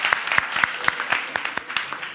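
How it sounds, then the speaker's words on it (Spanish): Scattered clapping from a small seminar audience, with separate sharp hand claps at a brisk, uneven rhythm and a thin background patter. "Aplausos para vosotros"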